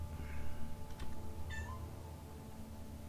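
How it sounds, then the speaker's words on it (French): A cat meows loudly a couple of times over a low steady background hum, fairly close with no talk. "j'ai un de mes chats qui miaule comme si c'était la fin du monde"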